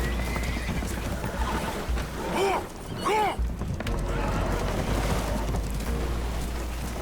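Spooked horses aboard a damaged, leaking boat in Red Dead Redemption II whinny in two shrill, wavering bursts over a constant low rumble of water and engine noise, with murmured voices faintly underneath.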